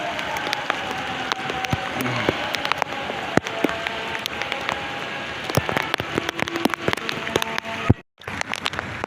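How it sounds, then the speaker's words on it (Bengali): Steady heavy rain pours down outdoors in Dhaka, a dense continuous patter with scattered louder drops, briefly cutting out near the end. "অনেক বৃষ্টি হচ্ছে বাইরে"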